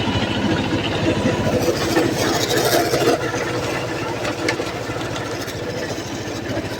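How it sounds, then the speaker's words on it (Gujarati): A farm tractor idles in a mango orchard, its engine giving a steady, close, throbbing low rumble that continues unbroken for several seconds with no voices. "તો ટ્રેક્ટર લઈ આવું ફટાફટ અને ખેડવાનું ચાલુ કરી નાખું"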